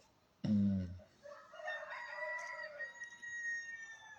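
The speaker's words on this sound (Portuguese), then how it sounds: "Galo tá cantando de novo" A rooster crows in a Brazilian town, a single distant, faint drawn-out cock-a-doodle-doo following a short low thump, heard alone without talk.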